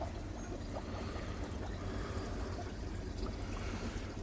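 Water in a frozen koi pond bubbling and trickling under the ice, a soft, continuous, steady wash of sound with no voices.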